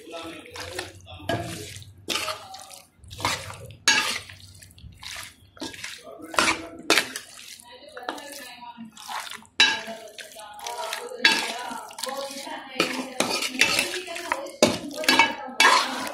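A utensil scrapes and clanks through mutton biryani in a metal pot as garam masala is mixed in, with irregular close knocks, scrapes and wet stirring and some background voice.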